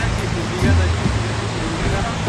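Mountain waterfall in Himachal Pradesh rushes as a continuous broadband roar, close and steady, with a brief louder surge partway through.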